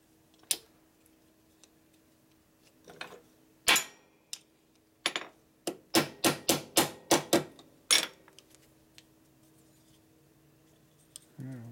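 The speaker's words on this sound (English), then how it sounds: "Force and hammer." Sharp hammer blows on a part from a 1961 Harley-Davidson Sportster XLCH transmission during a rebuild, first scattered and then a quick run of about six evenly spaced strikes, close and loud, with faint talk.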